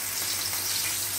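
Potato pieces frying in hot oil over medium heat: a steady, close, hissing sizzle with fine crackling and no voice.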